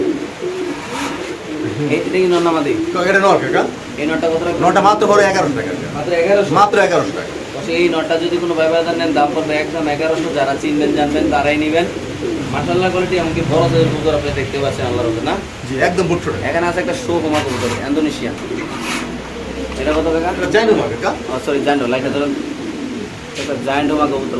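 Pigeons coo steadily at a pigeon market where birds are sold, the soft repeated calls continuing throughout alongside people talking.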